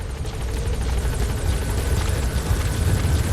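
Helicopter rotor chop from the video game Metal Gear Solid V: The Phantom Pain, a steady, loud, low throbbing beat with engine roar that continues throughout without talk.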